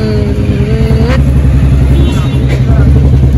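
Vehicle pulling up at a roadside chaat stall on a busy night street, engine rumbling loud and close with steady idling throb, while people talk over it.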